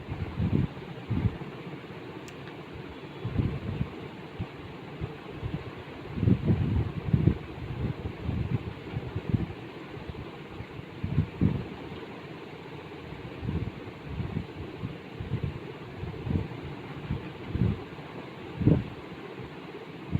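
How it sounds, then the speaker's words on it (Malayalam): Electric beater whipping egg white into chiffon cake batter, a steady low motor hum with uneven rumbling bursts as the beaters move through the bowl, continuous for the whole stretch with no talking. "ഇലക്ട്രിക് ബീറ്റർ യൂസ് ചെയ്തിട്ട് നമുക്ക് ബീറ്റ് ചെയ്തെടുക്കാം"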